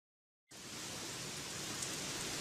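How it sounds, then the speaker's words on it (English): Steady rain begins abruptly after a brief silence, then pours on as a dense, even hiss with no voices. "It's raining cats and dogs again."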